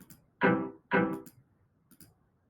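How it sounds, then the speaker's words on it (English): Two sustained synthetic string notes with rich harmonics, each swelling and fading, followed by faint clicks in a quiet room. "If we click it again, we have a string sound."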